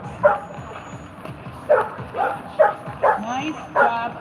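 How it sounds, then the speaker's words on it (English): A search dog gives repeated bark alerts at a hidden person during a working-dog demonstration, with about five sharp barks and yips spaced over a few seconds, fairly close, alongside faint background voices. "there she is, at our hidden person and doing her bark alerts"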